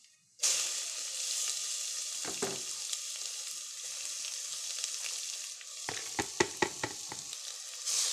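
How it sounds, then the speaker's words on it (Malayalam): Grated beetroot tips into hot oil with spluttering mustard seeds and fries with a steady, loud sizzle, broken by a few sharp stirring clatters and pops near the end. "ആദ്യം തന്നെ ഞാൻ കടുക് പൊട്ടിച്ച് അതിലോട്ട് ഈ അരിഞ്ഞ് വെച്ചിരിക്കുന്ന ഗ്രേറ്റ് ചെയ്തിരിക്കുന്ന ബീട്രൂട്ട് കടുക് പൊട്ടുമ്പോൾ അതിലോട്ട് ഇട്ട് കൊടുക്കണം"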